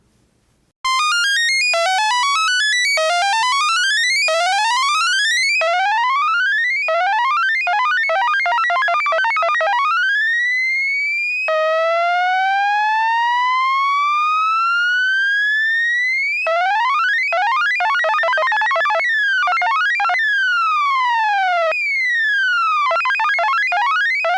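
ARP Odyssey synthesizer tones sweep upward again and again in fast sawtooth-like ramps from a sample-and-hold LFO effect, some quick and chattering, others long slow glides, loud and continuous with no voices.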